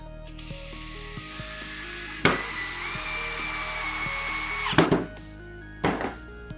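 An electric screwdriver drives a screw into wood with a steady whirring motor run of about two and a half seconds, bracketed by sharp thunks and clicks, then a short final burst.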